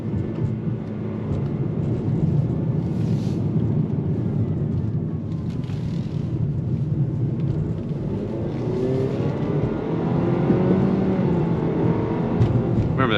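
Cabin drone of a front-wheel-drive 2026 Nissan Sentra driving with simulated downshifts, a steady engine and road rumble throughout, with the engine note climbing in pitch toward the end.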